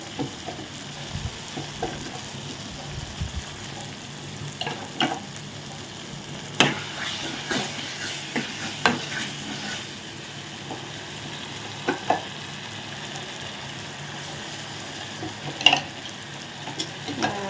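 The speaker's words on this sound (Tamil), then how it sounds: "தக்காளி பழத்தை போட்டு நல்லா வதக்குவோம்" Tomatoes sauté in a pan for a liver fry, giving a soft, steady sizzle with intermittent scrapes and taps from a stirring spoon. Nobody speaks.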